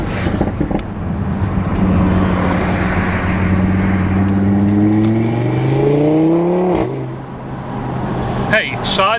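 A car engine fitted with a new intercooler revs up steadily under boost, its rising drone building for several seconds before the throttle lifts abruptly and a brief whooshing release follows, close and loud.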